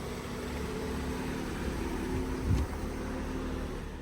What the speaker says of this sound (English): the engine sounds good. No timing chain rattle.